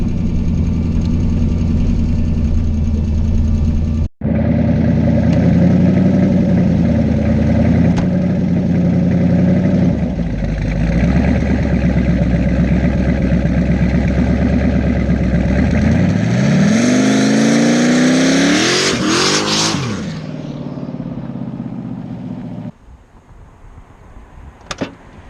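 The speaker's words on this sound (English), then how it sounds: "This is no two-step, this is just me flooring the car" A Chevstang, a Mustang with a Chevy engine, idles loudly, then revs hard at full throttle without a two-step, climbing in pitch to a roaring peak before cutting off abruptly. A brief drop out occurs early on, and quieter rumbling follows the cut.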